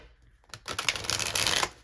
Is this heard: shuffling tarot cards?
yes